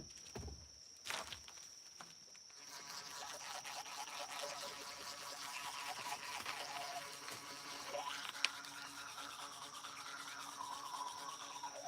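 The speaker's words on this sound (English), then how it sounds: "This toothbrush is electric, powered by the sun." A solar-powered electric toothbrush runs with a steady high buzz that starts after a few seconds of handling noises and continues throughout, faint and close.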